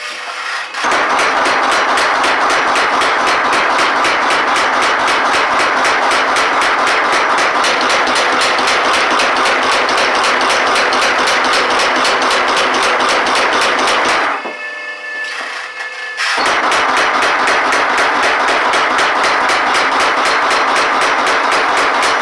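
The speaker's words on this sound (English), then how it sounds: "Let's fire this baby up and do some hammering." A power hammer pounds a piece of rusted 3/4-inch round steel stock in a rapid, relentless stream of loud metallic blows, pausing briefly partway through before resuming at the same fast pace.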